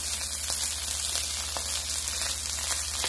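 Ribeye beef strips frying in a wok for fried rice give a steady, even sizzle throughout, moderately loud and close, with a few faint pops and no voices.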